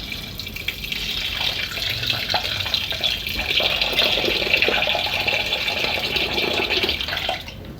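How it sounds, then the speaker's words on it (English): Water pours steadily into a large cooking pot (sufuria) holding beef for a stew, a continuous splashing stream lasting several seconds before it stops, close and moderately loud with no talking. "Then I'm going to add some water."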